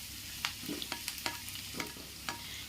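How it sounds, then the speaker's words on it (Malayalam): Chopped garlic, ginger, cashews and spices sautéing in hot coconut oil for egg curry make a continuous sizzle, broken by about half a dozen sharp spoon scrapes against the pan; no voices are heard. "ഇത് നമുക്ക് നല്ലതുപോലെ ഒന്ന് വഴറ്റിയെടുക്കണം"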